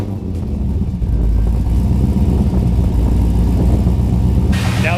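A loud, steady low rumble comes from the idling LS-swapped third-generation car engine fitted with an LSA blower, running continuously up close, with a brief hiss near the end.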